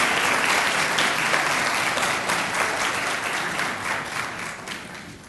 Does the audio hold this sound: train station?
no